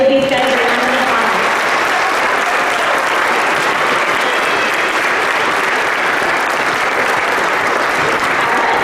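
Sustained audience applause at a school honors ceremony for honor students, a dense steady wash of many hands clapping at full volume throughout, with a few voices briefly audible at the start.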